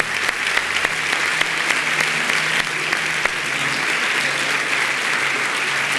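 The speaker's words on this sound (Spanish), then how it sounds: "Un aplauso fuerte, vamos a darle" Loud, steady applause fills a church service, a dense wash of many hands clapping together without pause, with a low hum underneath and no voices standing out.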